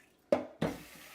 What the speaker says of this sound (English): I got the rice washing.